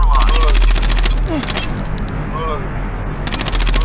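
Rapid automatic gunfire bursts from the 1999 tactical shooter Rainbow Six Eagle Watch, loud and close in repeated bursts with a short pause, overlaid by a clipped radio-style game voice.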